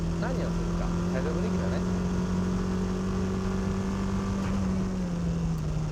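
A low car in a drift demonstration, its engine note held steady and rising slightly as it slides sideways, with tyre and wind noise, moderately distant, and a voice speaking faintly over it.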